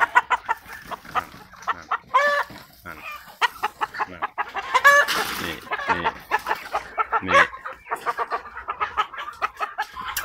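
A Sa Dam fighting rooster clucks and calls in repeated short bursts, close and fairly loud, with a few longer crowing-like cries and no talk.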